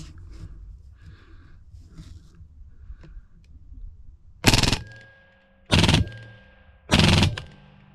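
A Hatsan Blitz PCP air rifle fires three loud bursts on full auto, each a short rattling string of rapid shots, after quieter handling noises.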